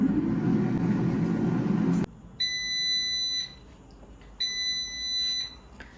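An air fryer's fan whirs loudly while drying mint, then stops, and its electronic timer gives two long high beeps a couple of seconds apart in a quiet room.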